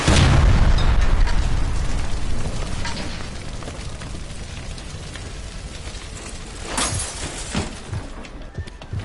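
A gas line explosion in the video game L.A. Noire, a loud, deep blast at the start that fades into a long rumbling roar, followed later by scattered smaller bangs and debris.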